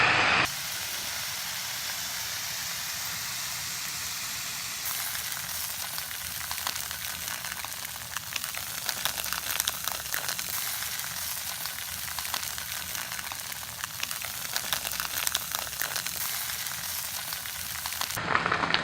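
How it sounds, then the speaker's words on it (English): Garlic tofu sears undisturbed in a hot pan on high heat, giving a steady, dense sizzle and hiss that holds at an even level throughout, with no voices. "I'm going to let it sit until it sears in the bottom"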